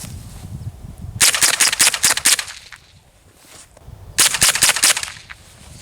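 Two loud, close bursts of rapid semi-automatic gunfire from a Smith & Wesson M&P 15-22 rifle, each lasting about a second and a half, separated by a quiet pause.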